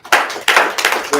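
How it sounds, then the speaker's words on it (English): An audience claps in a short, close burst, with a few loud, separate surges of hand claps across about a second. "Give him a round of applause"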